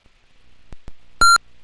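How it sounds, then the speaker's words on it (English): A short electronic beep sounds on its own after a couple of faint clicks, a steady clean tone lasting a fraction of a second. "that beep is the emulator starting up"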